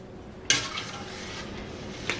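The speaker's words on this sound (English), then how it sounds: "So I'm going to go ahead and give this a good stir." A spoon stirs a sweet pickle mixture with turmeric in a pot, starting with a sharp clink against the metal, then a soft scraping swirl and a second faint clink near the end.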